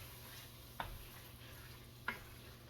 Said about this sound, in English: we'll go ahead and mix that meat in there